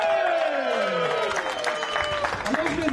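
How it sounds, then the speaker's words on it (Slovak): Applause at a village day goulash cooking event, a crowd clapping steadily and fairly close, mixed with overlapping chatter and tonal background sounds. "Zatleskám ešte raz."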